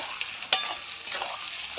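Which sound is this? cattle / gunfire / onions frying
onions frying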